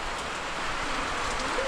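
Steady rain falling in a rural hillside village, a dense, even hiss that continues without pause, moderately loud and close, with no voices.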